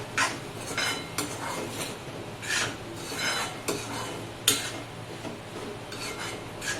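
Amaranth greens stirred and sautéed with salt in a pan, a spoon scraping and tapping against the metal in soft, irregular strokes, close but fairly quiet with no talk.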